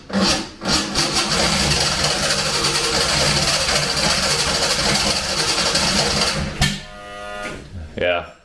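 A project car engine cranks loudly and steadily for several seconds while trying to start. It cuts off with a sharp pop like a small backfire, followed by brief lighter mechanical sounds.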